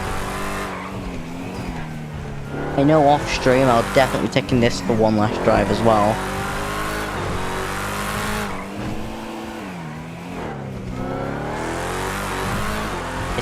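A Mustang revs and accelerates in the racing game Redline, its engine note rising and falling with sharp revving bursts in the middle, under someone talking throughout.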